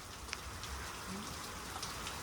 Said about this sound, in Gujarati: ભારે વરસાદ જોવા મળી રહ્યો છે